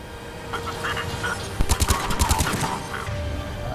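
Heavy gunfire in the video game Mass Effect 3 Legendary Edition: rapid bursts of automatic shots crackle loudly through the middle of the clip over a steady background game ambience.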